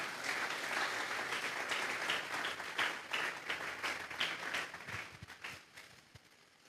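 A church congregation breaks into loud, sustained applause that swells and stays dense, then thins out and fades over the last second or so, with a few scattered claps lingering at the end.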